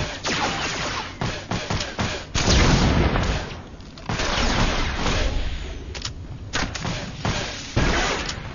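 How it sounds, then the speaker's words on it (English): Gunfire in Star Wars: The Old Republic, a Sith Bounty Hunter under attack: dense booms and thuds crowd together into a loud, continuous barrage with heavier bursts throughout and no talk over it. "Who's shooting at me?"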